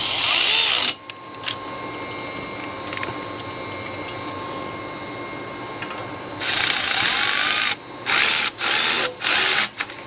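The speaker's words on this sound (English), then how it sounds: "I think I'm going to tighten this 10 mil first." A power tool drives a 10 mm bolt on intake piping of a 6.7 Ford Super Duty, with a loud sustained whir at the start, a quieter pause, then a longer burst and several short snugging pulses.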